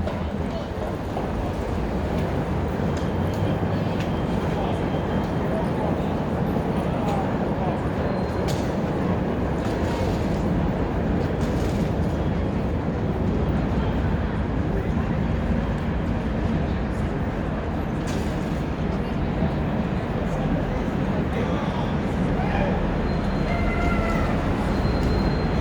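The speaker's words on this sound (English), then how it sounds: "I want to show you the CTA elevated train." A CTA elevated train passes in downtown Chicago, a continuous loud rumble of wheels and rail noise sustained throughout, with street ambience around.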